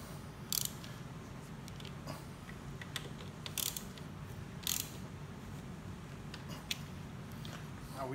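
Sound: torque wrench tightening motorcycle handlebar bolts

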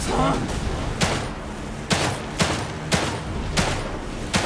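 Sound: gunshots in the video game The Evil Within 2

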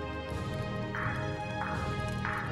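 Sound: footsteps in the video game Dragon Quest Swords

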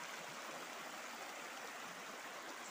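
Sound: rushing stream with lots of water

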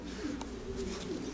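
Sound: racing pigeons arriving

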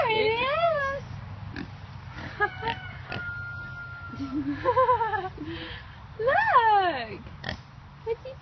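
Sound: pig oinking

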